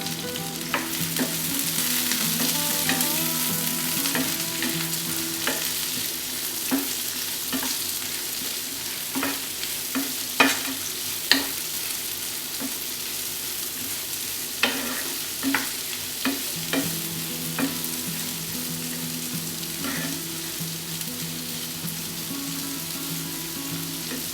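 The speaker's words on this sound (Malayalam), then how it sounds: "ഇനി ഇത് നന്നായി മിക്സ് ചെയ്ത് കൊടുക്കാം" Fried rice stirred in a hot pan, continuous loud sizzling throughout with scattered scraping and clicking strokes of the spatula against the pan, close by and with no talk.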